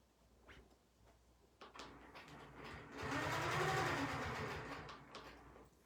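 Sewing machine stitching the seam of a square-in-a-square quilt block, a few single clicks and then a short, fast, whirring run of stitches up close, with no voices.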